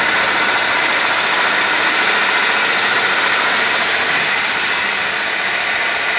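The 4000W hub motor of a custom Hornet hybrid electric fat bike spins at top speed with no load on a 76.8-volt battery, giving a loud, steady, unbroken high whine close by with no talk.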